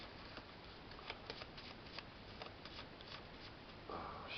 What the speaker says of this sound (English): Shuffling for the first time, hopefully the last.